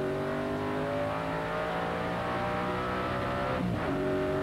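A TVR Tuscan race car with a 4.5 litre V8 at the 1994 Tuscan Challenge, recorded onboard, roars loud and steady with a rich harmonic drone and a brief dip partway through, as if shifting gear.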